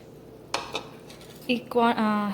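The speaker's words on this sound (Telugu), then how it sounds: "ఈ మిక్స్ని మనం ఏం క్లాట్స్ లేకుండా బాగా మిక్స్ చేసుకోవాలి" A cornflour, water and milk mixture is stirred in a pan, with a few clinks of a utensil against the metal followed by a sustained scraping swirl, close and fairly loud.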